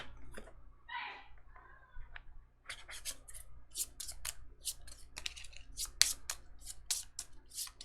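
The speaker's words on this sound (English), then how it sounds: "And I gotta shuffle this again." Cards from a deck in the Too Many Bones board game are shuffled by hand, a run of quick crisp riffling and tapping bursts close by, with no talking.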